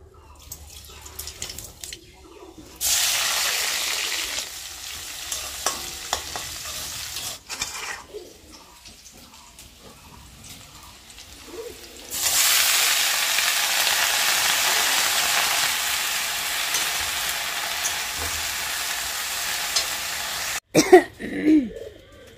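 Vegetable curry sizzles and fries in a pan in a home kitchen, a steady loud hiss running in long stretches broken by a quieter pause, with a few sharp clatters near the end and no talk.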